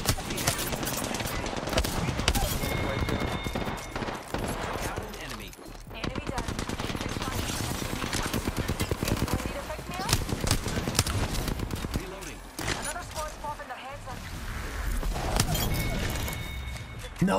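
Rapid automatic gunfire in Apex Legends, bursts of shots close and far with footsteps, while players talk over the firefight.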